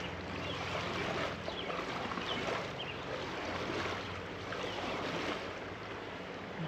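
Swimming pool return jet pushing water, a steady faint rushing and churning wash with no breaks and no voices.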